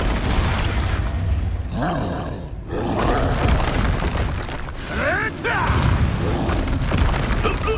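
The Expulso blast spell in the Hogwarts Legacy video game goes off as loud, booming explosions, mixed with growling, strained game-character voices and roaring battle effects.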